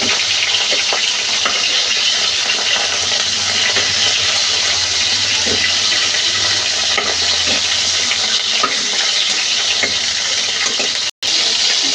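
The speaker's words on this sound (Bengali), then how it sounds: "এবার হালকা করে এপিট ওপিট ভাজি করে নেব" Prawns frying in hot oil in a pan, a loud, dense and unbroken sizzle that runs steadily throughout, with only a brief dropout near the end.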